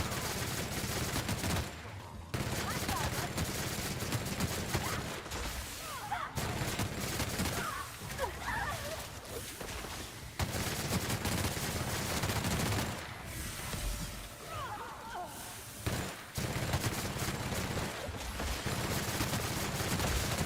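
Heavy gunfire from big guns in The Outer Worlds, sustained bursts of loud rapid shots filling most of the stretch, broken by a few short pauses, with faint voices and chirping creatures mixed in.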